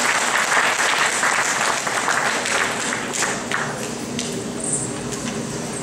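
Steady applause from a sizeable audience at a children's dance performance during a Hindu temple festival in Toronto, many hands clapping densely and evenly throughout without a break.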